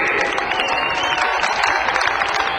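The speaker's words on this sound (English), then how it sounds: "Big round of applause, Steve Murray." An audience at the 2007 Springfield TT race applauds winner Steve Murray, with steady, dense clapping and crowd noise sustained throughout, fairly close and loud.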